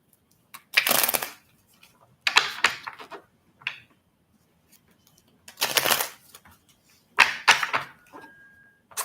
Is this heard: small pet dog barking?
no